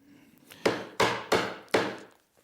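A chisel chopping dovetail sockets in wood, four sharp mallet strikes in a steady rhythm, each a loud close knock with a brief woody ring that fades before the next, with no talking.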